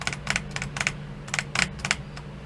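A mouse clicks rapidly in tight bursts of two or three, close to the microphone, using a fast clicking technique for the game Speed Builders. Brief pauses separate the bursts.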